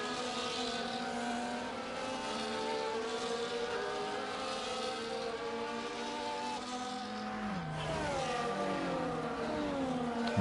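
Race cars in a racing video game accelerate together at a safety car restart, with a dense, continuous engine roar of layered revving tones climbing and shifting through gears, loud and sustained throughout.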